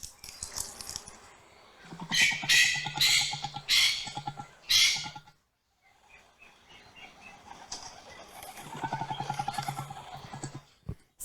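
An emu calls in two bouts of rapid, rough pulsing grunts, close and fairly loud, separated by a short silent gap.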